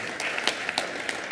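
A thin, scattered round of applause from a small audience in the Colorado Senate chamber, welcoming the Denver Broncos mascot Miles; a handful of sparse, close claps over a soft room murmur.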